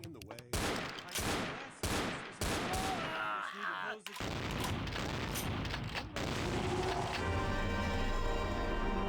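Revolver gunshots from the VTM Bloodlines video game ring out as several loud, separated bursts, followed by denser gunfire and sustained noisy action toward the end.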